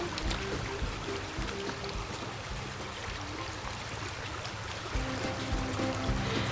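Rainwater runs off after a heavy Louisiana rain, rushing and gurgling steadily like a babbling brook, a continuous close wash of flowing water with a faint low hum underneath.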